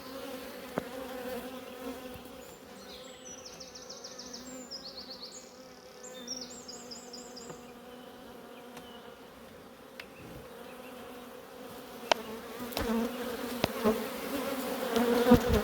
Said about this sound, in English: really healthy, friendly bees.